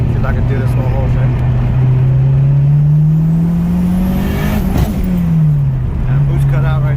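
A tuned Acura RSX fitted with a Carrot Top tuning harness pulls under boost; the engine note climbs steadily for several seconds, then drops as the boost cuts out, loud and close.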